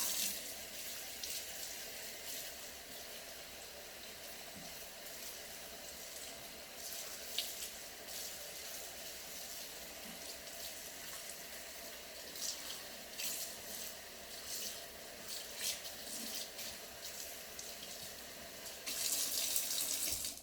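Tap water runs steadily into a sink while hair is rinsed, a continuous close splashing flow with small shifts in tone and no talking.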